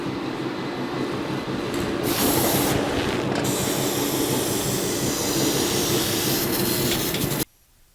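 A spray gun hisses continuously and loudly at close range, laying clear coat onto the firewall of a 1982 Jeep CJ7, the airflow surging briefly before cutting off abruptly near the end.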